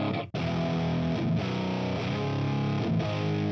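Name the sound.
electric guitar riff through amp simulator plugin with boosted tone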